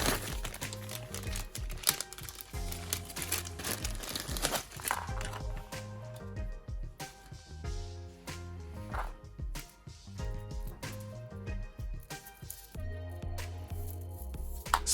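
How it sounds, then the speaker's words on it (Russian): A plastic bag holding a new Fiat Tipo window regulator repair kit is opened, giving repeated close crinkles and rustles with small clicks and knocks as the parts are handled, with no voices. "Открываем пакет с новым ремкомплектом и раскладываем содержимое."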